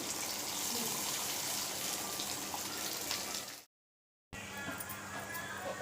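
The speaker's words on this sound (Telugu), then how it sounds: "అలాగే చింతపండు నానబెట్టింది పులుసు పోయాలి" Soaked tamarind water pours into a pot of green chilli curry, a continuous close gush of liquid that cuts out briefly and then resumes.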